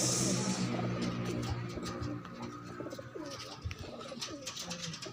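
Pigeons cooing nearby, soft low burbling calls repeating over a steady ambient hiss, with a few faint chirps mixed in and no one speaking.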